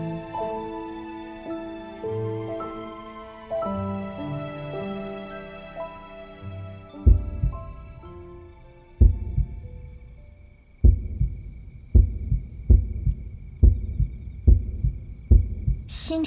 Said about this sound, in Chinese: 心跳这么快